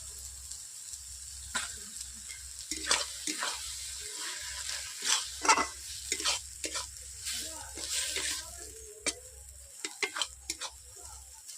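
Cumin paste is stirred into spinach frying with fish oil. A spatula scrapes and taps the pan over a soft steady sizzle, close and irregular, with light kitchen clatter.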